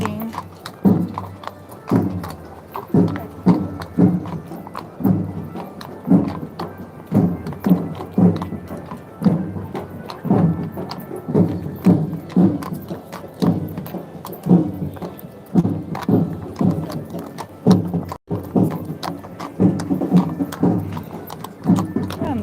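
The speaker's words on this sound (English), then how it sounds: "I can hear the horses walking" Horse hooves clip-clop in a steady walking rhythm on hard pavement near the Charles Bridge in Prague, several animals close by, the hollow knocks continuing evenly with a little background noise.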